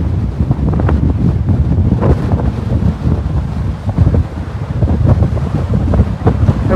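Wind-whipped sea waves surge on the coast near Bhandardara, a steady loud rush of water buffeted by heavy wind noise on the microphone, with no voices.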